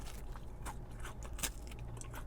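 Someone bites and chews crunchy fried chicken wings up close, giving a few faint, crisp crackles and crunches over a quiet background.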